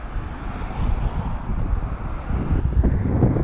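Wind gusts buffet the microphone outdoors, a continuous low rumble that swells and fades, with no one speaking.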